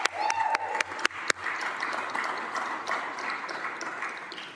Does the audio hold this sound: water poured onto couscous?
no